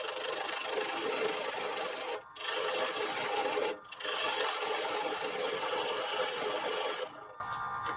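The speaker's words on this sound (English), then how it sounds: "Use a small bowl gouge ." A small bowl gouge cuts wood turning on a lathe, giving a steady, close, loud rasping scrape that stops briefly twice and then once more near the end.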